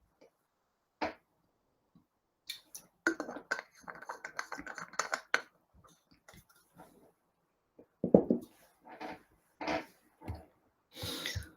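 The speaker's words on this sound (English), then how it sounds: "I would use first of all the tab key and try to move the focus" Keys on a computer keyboard, including the tab key, tapped in scattered single presses and short quick bursts, close and fairly soft in a quiet room.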